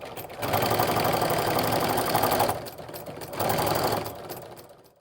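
A sewing machine runs close and loud, stitching down both sides of a quilted placemat to attach framing strips. There is a long burst, a brief slowdown, then a second shorter run that fades out.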